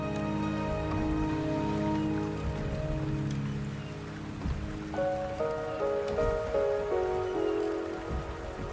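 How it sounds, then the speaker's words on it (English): Steady rain falls in the Wuthering Waves video game, a continuous soft patter spread across the scene, layered under sustained musical tones with no one talking. "The rain is subsiding,"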